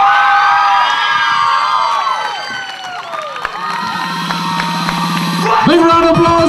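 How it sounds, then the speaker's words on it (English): A fashion show audience cheers and whoops loudly for an award-winning designer, a bright crowd roar with applause that rises again toward the end. "Big round of applause, ladies and gentlemen."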